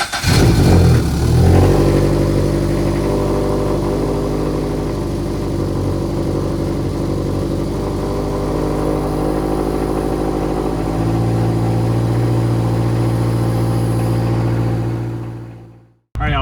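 A Toyota GR86 fitted with a big turbo kit starts for the first time, cranking and catching, then idling steadily and loudly for about fifteen seconds before shutting off, close with no talk.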